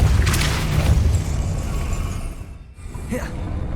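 The Depulso spell is cast in Hogwarts Legacy, a heavy low boom and rushing blast that fades into rumbling game ambience with a small swishing accent near the end.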